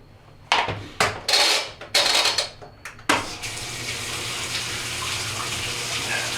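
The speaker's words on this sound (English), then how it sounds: "I'm going to just turn the washer on, let some water come through" A Kenmore washing machine fills with water: a few sharp clunks and bursts at the start, then a steady, close rush of water flowing in.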